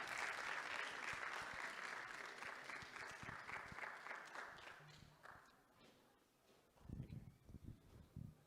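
A crowd applauds steadily and loudly for a pastor taking the stage at a 20th anniversary event for First Class Enterprise LLC, the clapping thinning out toward the end as a few voices and scattered sounds follow.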